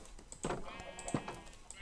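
Several short sheep bleats from Minecraft sound in quick succession over a soft game background, close and moderately loud, with a few faint clicks between them.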